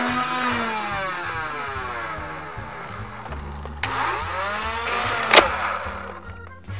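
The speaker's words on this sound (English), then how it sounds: "these motors are loud and proud, and they've got flywheel brakes in them" Flywheel motors of a Nerf Rayven blaster spin up with a loud whine, rising and falling in pitch with rev bursts and sudden braking, close and with no talk.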